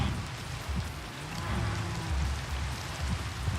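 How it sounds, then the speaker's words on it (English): Rain falling in the Minecraft video game, a steady dense patter and hiss of drops on surfaces with a low rumbling undertone, continuous and moderately loud. "It's still raining outside."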